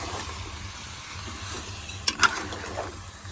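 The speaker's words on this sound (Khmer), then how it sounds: "ហើយពេលហ្នឹងគឺយកដាក់ទឹកទេណាពេលគឺយើងឆាសាច់មាន់ហ្នឹងជាមួយនឹងគ្រឿងហ្នឹងឲ្យសព្វ" Chicken sizzles and hisses as it's stir-fried in a hot pan, with a couple of sharp utensil clinks against the pan partway through.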